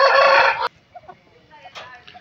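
Rooster among chickens kept for sale crowing loudly and close for just over half a second, followed by quieter scattered clucks and faint bird sounds.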